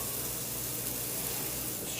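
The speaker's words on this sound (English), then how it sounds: "If it doesn't sizzle," Constant crackling sizzle of cornbread batter hitting a hot cast iron pan, close and steady for a couple of seconds with no talking.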